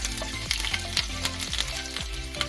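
Fenugreek seeds and curry leaves frying in hot oil for a sweet lemon pickle, a close, steady crackling sizzle with popping bursts and stirring scrapes.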